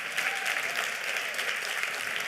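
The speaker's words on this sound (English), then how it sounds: "And so can I just do a round of applause for Griselda?" Conference audience at an awards summit keynote giving a round of applause, a dense, even patter of many hands clapping, moderately distant and steady throughout.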